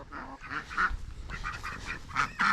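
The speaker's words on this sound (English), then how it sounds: "There's the duckies." Domestic ducks at a backyard coop quacking repeatedly, several nasal calls overlapping at a moderate distance over a low outdoor rumble.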